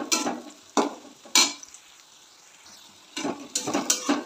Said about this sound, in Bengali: এবার পেঁয়াজের সঙ্গে রসুনগুলো একটু ভাজা ভাজা হবে।